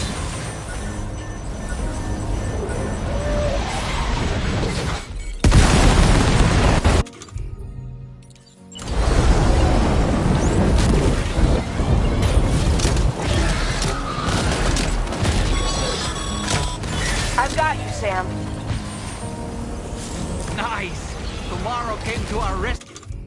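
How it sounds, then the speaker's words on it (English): Gunfire and explosions in Death Stranding 2: On The Beach, played on hard difficulty, with a loud burst of blasts near the middle of a steady din of combat noise and talk heard throughout. "Watch out, Sam. Opening fire"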